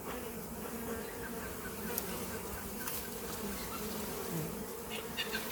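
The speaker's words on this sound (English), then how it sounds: "I'll let the bees know we're coming in" Honey bees buzzing steadily around an open hive during an inspection, a dense continuous drone close by with no voices.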